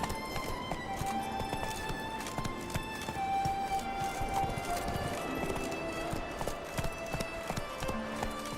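Roach, the horse in The Witcher 3, gallops with a steady, fast clip-clop of hooves that runs throughout, loud and close, over a bed of game music.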